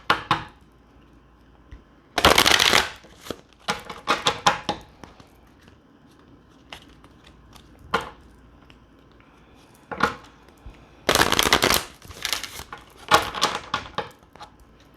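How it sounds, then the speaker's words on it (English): Tarot cards are shuffled by hand, giving close bursts of crisp riffling and slapping between short quiet gaps, repeated several times. "Let's give these a good shuffle,"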